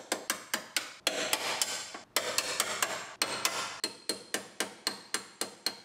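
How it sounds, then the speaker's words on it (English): Rapid, sharp metallic hammer strikes on a spot weld breaker ring out in steady bursts, breaking spot welds loose on a rusty car frame, close and loud, with brief pauses between groups of blows. "And we'll put our breaker in there, break these spot welds loose."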